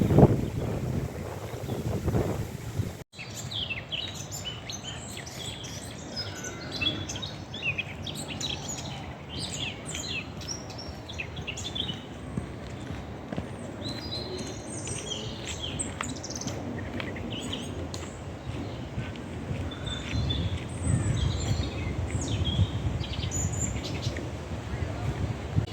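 Birds chirping and tweeting beside a flowing stream, scattered bright calls over a constant watery rush and light wind, steady throughout with a short break near the start.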